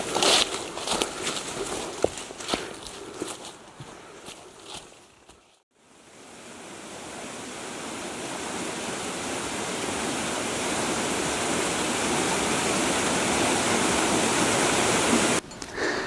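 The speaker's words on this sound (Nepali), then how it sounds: "यो जस्तै खोलाहरू छन् नि" A steep mountain stream rushes beside a forest trail, a loud continuous roar of churning water close by, briefly dipping near the start before surging back steadily.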